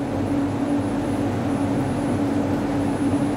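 Interior of a moving LRT light rail train, a steady low rumbling hum with a faint sustained tonal drone and no speech.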